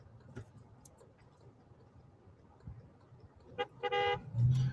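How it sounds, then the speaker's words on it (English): A car horn honks in a couple of short toots near the end, fairly loud over low street and traffic rumble outdoors. "She's honking her horn again"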